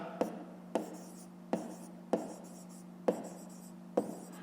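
A pen writes out a fifth-grade math solution, six short separate scratching strokes spaced roughly evenly, each a quick tap followed by a brief scrape, close and quiet.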